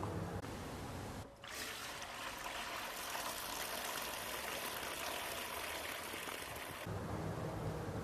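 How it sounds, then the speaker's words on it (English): Heavy simulated downpour pouring down and draining into a roof gutter, a steady loud rush of running water that continues unbroken, alone with no talk, after a brief dip near the start. "where we have simulated a heavy downpour."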